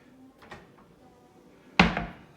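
Corner Lazy Susan cabinet doors swing shut in a kitchen: a soft knock early on, then one sharp, close wooden thud with a short rattle as the doors close up.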